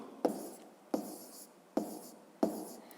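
Pen writing numbers on paper in four quick, evenly spaced strokes, each a sharp tap followed by a short scratch, faint and close.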